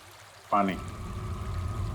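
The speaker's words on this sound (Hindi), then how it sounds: "पानी की आवाज लगती है। देखो आसपास कोई झरना या नदी वगैरह है क्या?" A river flowing near a jungle cave gives a steady, soft rushing wash that swells in after a brief tonal sound and carries on evenly, moderately distant.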